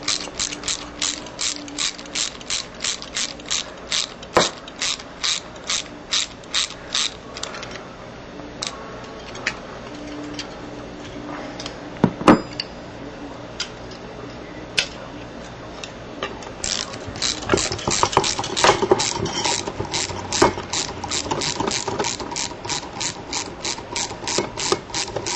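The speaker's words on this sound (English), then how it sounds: "Now this ratchet I'm using is actually a pretty nifty little device." Gear Wrench ratchet running a stainless steel nut down, rapid, close, loud clicking pawl in bursts of regular ticks with brief pauses and a few sharper knocks.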